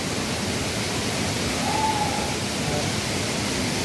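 Liliw falls pours in a constant, dense wash of rushing water, loud and unbroken from start to finish, with no clear pauses.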